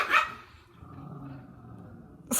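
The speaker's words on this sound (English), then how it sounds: "those are my dogs in the background" Dogs bark from the background in a home, a loud sharp bark at the start, a low muffled rumble in between, then another burst of barking at the end.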